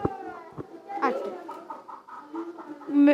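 A child mimics a hen with a string of clucking, warbling vocal sounds, close and clear into a microphone at a children's Eid event.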